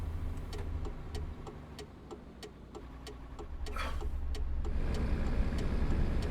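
Engine of a Mercedes-Benz Actros MP2 truck with a V8 in Euro Truck Simulator 2, a steady low rumble with a regular clicking indicator ticking over it, swelling louder toward the end.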